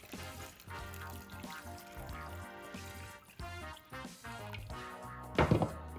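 Water pours into a pot of potatoes, a trickling, splashing stream with soft thunks of the pot, moderately close and fairly quiet, ending in a brief louder splash.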